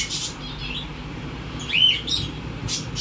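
Pet cockatiels in a home breeding setup give a few short, high chirps and tweets, one clear whistled call near the middle and brief calls at the start and end, over a quiet room background.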